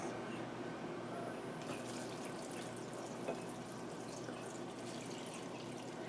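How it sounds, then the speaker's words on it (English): Water runs steadily from a tap into a fermentation container for hot sauce, a faint continuous splashing stream with small drips and bubbling, fairly quiet and unbroken throughout. "So I'm going to fill the water up."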